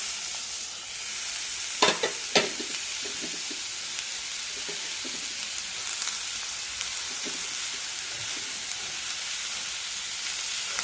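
Chopped drumstick being stir-fried for a Kerala-style thoran, a steady close sizzle of hot oil with a few sharp scrapes and taps of the spoon against the pan.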